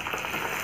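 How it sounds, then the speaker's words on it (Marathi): A tempering of black pepper, peanuts, plenty of curry leaves and dried red chillies sizzles in hot oil for tamarind rice, a steady, close frying hiss over a brief moment. "आता ही फोडणी छान अशी खरपूस होऊ द्यायची"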